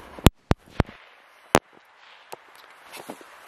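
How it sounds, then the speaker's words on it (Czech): Dum Bum Micro firecrackers, small Czech bangers, go off in a quick series of four sharp, loud cracks followed by a fifth, then fainter crackles and debris pops. "Slyšeli jste, že ta petarda nebyla úplně velká, ale na to, jak je to malý, tak je to fakt brutální."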